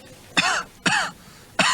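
Three sharp, loud coughs from a person told to cough during a medical check, each a short harsh burst spaced about half a second apart, close to the listener with quiet gaps between.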